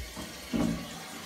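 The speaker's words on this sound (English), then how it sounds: "Lincoln's filling up our water jug here for us" Water pours into a water jug in a short burst, a brief rushing swell under an outdoor background with no talking.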